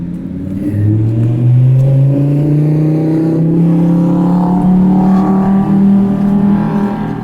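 Noisy car on a city street, a loud engine revving with rising pitch as it accelerates, a rough, rumbling drone filling several seconds close by, with street noise underneath.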